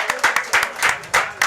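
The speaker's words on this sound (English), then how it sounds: "let's everybody give another round of applause for Guaco Taco" An audience gives a short burst of applause, a few rhythmic clusters of clapping at moderate distance.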